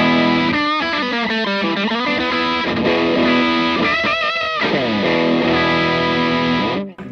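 Electric guitar through the green overdrive channel of a Visual Sound Jekyll & Hyde pedal with all knobs set mid-way, giving a moderately driven, warm tone in steady chords and bends, played alone.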